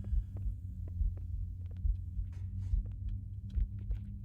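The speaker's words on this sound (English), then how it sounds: "this is even more tense when you have the heartbeat sound going" Heartbeat sound effect in the video game Halo SPV3, a steady low thumping pulse repeating about once a second over a faint hum, with sparse ticking game noises.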